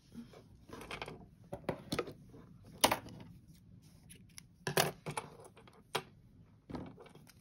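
Scissors snip crochet yarn to finish a bag handle, with several short sharp clicks and rustles close by in a quiet room.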